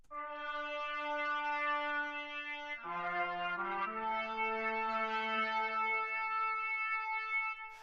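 Layered trumpet parts in a song, sustained brass notes stacked with lower-register lines, a smooth held chord that shifts harmony midway and stays steady and full to the end.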